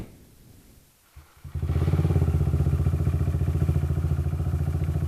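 A Kawasaki Z125 motorcycle, lowered and stretched, starts after a quiet moment and settles into a steady, loud idle as it warms up, its single-cylinder putter close and continuous with no talk.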